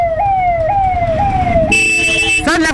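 A loud, close siren wails in repeated falling sweeps, then shifts to a different tone, with road traffic rumbling underneath.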